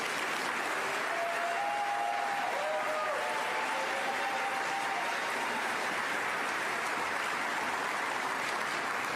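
A large audience at a NASA press event welcomes the Johnson Space Center director onstage with steady, loud, sustained applause and a few faint cheers throughout.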